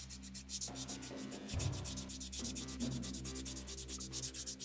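Filler is sanded by hand with medium and then fine grit paper, giving a close, rapid rhythmic scratching of repeated back-and-forth strokes heard alone.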